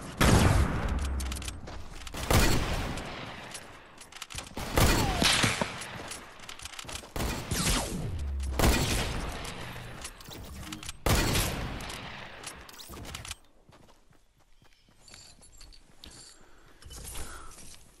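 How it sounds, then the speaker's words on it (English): Fortnite sniper gameplay brings repeated loud gunshots and bursts of rapid fire in close succession, mixed with clicking mechanical weapon sounds, fading to quieter handling noises near the end. "Shots!"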